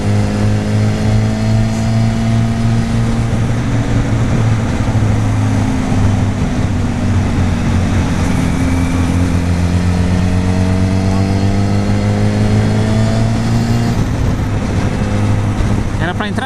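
Riding an FZ1K or Ninja 1000 motorcycle through Atlanta traffic with a car alongside: a loud, steady engine drone under wind rush, its pitch gliding slowly and shifting near the end.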